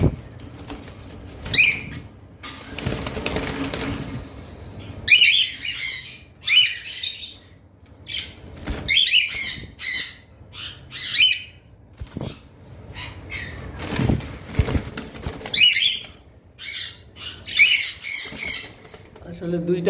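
A breeding pair of cockatiels and conures, including lutino birds, squawking in sharp, repeated bursts with some wing flapping, close by, while a person talks intermittently.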